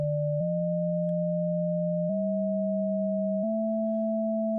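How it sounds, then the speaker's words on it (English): Synthstrom Deluge ring modulator turning a plain sine wave into a steady, buzzy multi-tone drone that steps up in pitch a few times, loud and alone. "it's sort of mangled our sine wave into this kind of almost like 3 sine waves in one"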